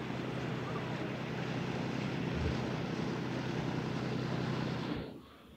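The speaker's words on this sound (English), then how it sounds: "there's a boat cruise." A tour boat cruises on a lake in Jasper National Park, giving a steady broad roar of engine and water with wind buffeting the microphone, loud and constant before dropping off sharply near the end.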